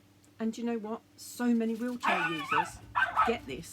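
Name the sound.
dog barking in the garden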